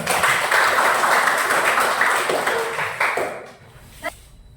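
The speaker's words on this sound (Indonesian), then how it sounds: "Tepuk tangan buat kita semua." Pupils in a classroom clap for one another after group work, a lively burst of applause that tapers off, followed by a few scattered taps and quieter room sounds.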